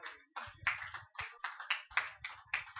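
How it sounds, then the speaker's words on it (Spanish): Congregation applauding in a church service, a quick run of rhythmic, fairly close hand claps in unison with a steady beat, no talking over it. "Un aplauso al Señor ahí."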